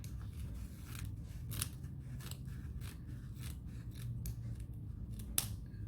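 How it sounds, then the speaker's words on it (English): Scissors cutting a circle shape out of fabric, a string of close, crisp snipping crunches at a steady pace over a low background hum. "now I am going to cut out my circle shape"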